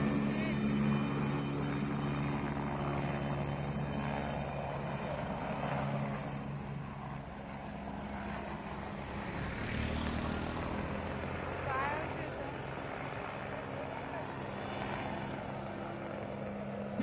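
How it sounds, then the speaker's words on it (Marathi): A helicopter sits at a helipad near a beach, its engine and rotor giving a steady low drone and hum with a high whine, moderately distant and continuous, with faint background voices. "तिथे एक हेलिकॉप्टर आलेलं"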